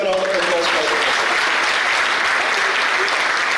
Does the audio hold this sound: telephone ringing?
no